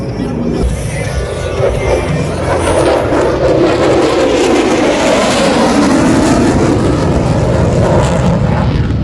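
A propeller airplane roars past close by at an air show in Kansas City, its engine drone building and sweeping across the whole stretch, loud and continuous, with faint voices beneath.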